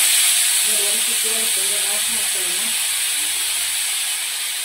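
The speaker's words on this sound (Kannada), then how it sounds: "ಸೋಯಾಬೀನ್ ಫ್ರೈ ಮಾಡೋಣ ಅಂತ." Soybeans fry in a pan over a medium flame with a steady, bright hiss and sizzle throughout, while a voice briefly murmurs in the first few seconds.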